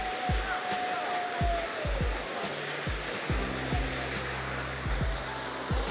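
Soochipara waterfall, heard from a bridge above it, makes a constant broadband rushing roar that fills the whole stretch. Dull low thumps repeat underneath, like footsteps on the bridge.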